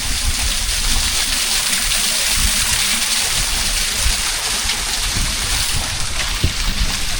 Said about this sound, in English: there's crystal clear water here, dropping down from the waterfall